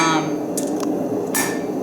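A hammer planishes cooling hot steel on a cold anvil, giving two sharp metallic strikes about a second apart, close and loud.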